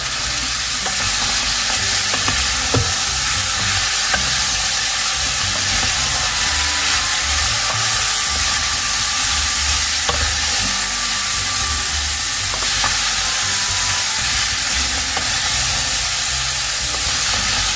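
Carrots and onions fry in a pan with a loud, continuous sizzle and hiss, punctuated by occasional scrapes and knocks of stirring, heard close with no talking.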